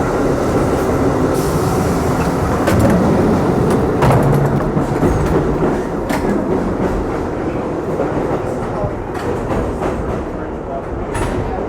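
A New York City subway train runs at speed, a loud continuous rumble and rattle with clicking wheels and metallic screeches, and a voice speaks faintly beneath the noise.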